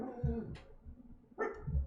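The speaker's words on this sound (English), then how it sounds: "I don't know why the dog is barking" A dog barks a few times somewhere in the house during an online class livestream, the muffled barks sounding faint and distant, with short gaps between them.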